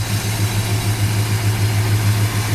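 Engine of a 1967 Dodge Coronet R/T convertible clone, freshly serviced with an oil change and new valve cover gaskets, idling close by in a steady, even low rumble with no voices.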